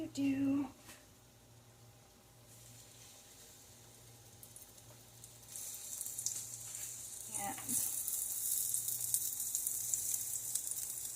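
Chicken frying in very hot grease for copycat Panda Express orange chicken, a steady broadband sizzle that swells louder in the second half, with brief clatter near the start and a low hum underneath.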